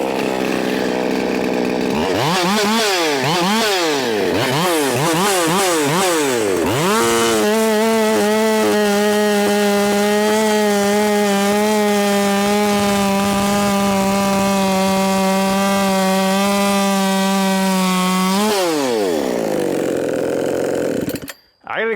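An Efco 165 chainsaw with a sharpened Stihl chain revs up in several rising and falling bursts, then holds a loud sustained high-rpm cut through wood before winding down and stopping.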